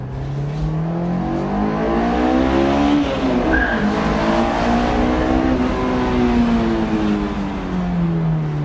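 A Honda S2000 engine revs hard and accelerates with a high, climbing wail and a shift partway through, loud and close, with tire squeal mixed in.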